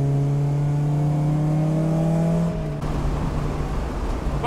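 A Mazda MX-5 NA 1.6 Cup race car drives on a race track, its engine droning loud and close with a steady tone that drops and roughens about halfway through as it shifts or eases off.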